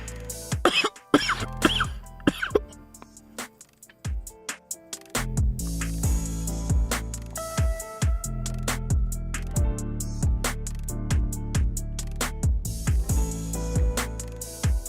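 A man coughs and clears his throat repeatedly during a cybersecurity livestream, harsh bursts in quick clusters, close and loud, separated by brief pauses.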